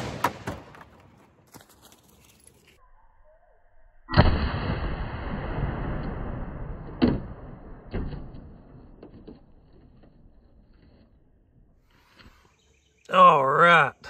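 A 450 Bushmaster rifle firing a 240gr XTP bullet into a clear ballistics gel block cracks once sharply, then a long reverberating boom decays with thumps as the block falls, followed by a distant voice.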